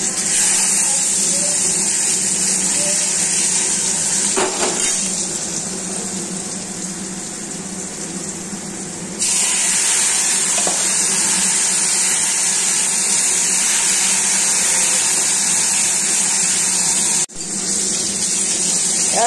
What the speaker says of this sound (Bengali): আলু টুকরোগুলোকে এক এক করে দিয়ে দিচ্ছি তেলের মধ্যে। এখন ভালো করে ফ্রাই করব।